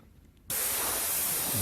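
An airbrush sprays black paint onto a skull and fire artwork, a sudden steady close hiss that starts after a brief quiet moment and holds evenly to the end.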